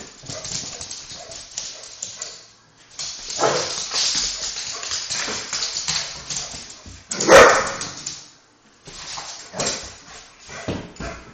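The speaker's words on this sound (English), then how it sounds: "Hear the bark." A dog barks a few times nearby, sharp single barks spaced apart among scuffling and movement noises.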